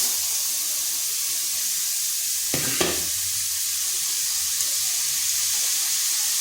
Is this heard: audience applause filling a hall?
no